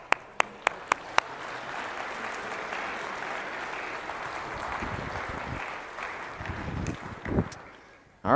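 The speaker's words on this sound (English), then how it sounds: "let's give them a round of applause" An audience applauds at a celebration gathering. A few sharp, separate claps open the clip, then dense, sustained clapping fills the room at a steady level before tapering off near the end.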